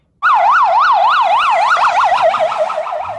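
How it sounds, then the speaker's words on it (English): A loud police car siren wails, sweeping up and down in a steady rapid cycle, close by outside a hotel in Miami, then shifts to a faster yelp pattern. "I hear police sirens"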